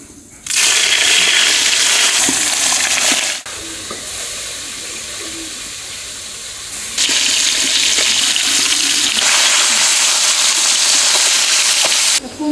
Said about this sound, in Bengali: কড়াই গরম হয়ে গেছে, এখন মাছগুলো দিয়ে দেবো।